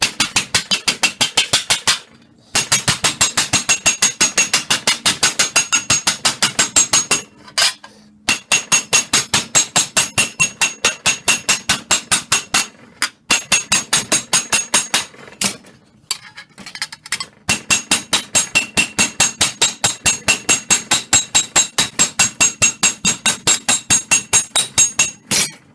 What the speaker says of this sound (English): Flat part of the hammer.